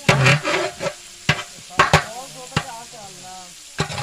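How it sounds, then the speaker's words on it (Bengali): Potatoes and other ingredients fry in oil in a large pot at an outdoor picnic, with sharp repeated spatula knocks over a steady sizzle and a voice faintly audible in the background. "সব কিছু আগে তেলে দিয়ে ভেজে নিচ্ছে"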